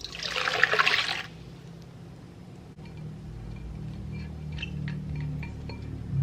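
A foamy liquid pours into a bowl for pizza dough in a brief, splashy gush, then stops, followed by quiet room noise and a few faint clinks.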